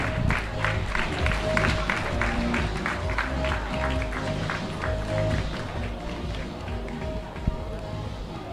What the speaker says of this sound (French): Mesdames et messieurs, vos applaudissements pour le podium du 1500 mètres masculin.